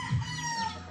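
A backyard white stag rooster gives a short harmonic call, a brief nasal clucking crow heard close and alone for under a second.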